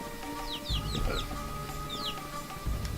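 Several quick, chirpy video game chicken clucks from Guacamelee! sound in small clusters over a faint steady hum, quiet and nearby.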